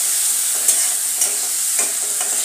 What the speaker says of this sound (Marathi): अशा प्रकारे मी चांगले परतून घेतलेले आहे